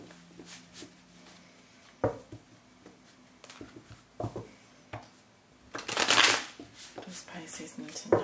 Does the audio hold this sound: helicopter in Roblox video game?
no